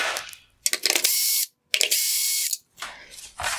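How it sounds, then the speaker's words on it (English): A Torx T20 driver backs out screws holding a metal bracket behind the LED reflectors of a 2019-2020 Mercedes-Benz C-Class headlight, giving two close, loud bursts of ratcheting clicks separated by short pauses. "I will remove the T20 screws holding on the metal bracket behind the LED"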